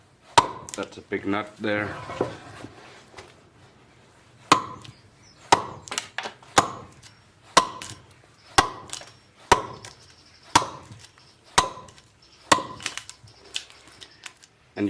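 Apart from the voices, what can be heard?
chopping out the inside of a wooden bowl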